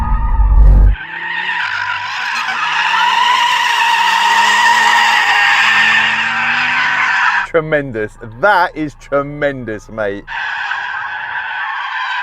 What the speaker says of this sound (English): Let's warm up the tyres.